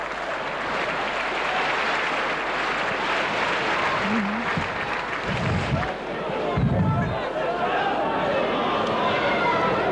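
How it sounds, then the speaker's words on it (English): A rugby league crowd at a Wigan versus Sheffield Eagles match gives a moderate spread of clapping and murmur, with a commentator talking over it throughout. "the crowd being generous in their applause for Sheffield when they do manage to bring up a move"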